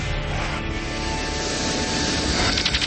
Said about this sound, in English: Flight 800 takes off.